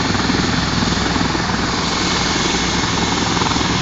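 An Air Care medical helicopter lands at night, its rotor and turbine giving a loud, close, continuous thumping roar throughout, with no voices heard.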